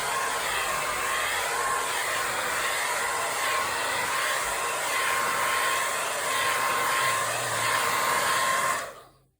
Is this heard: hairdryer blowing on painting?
yes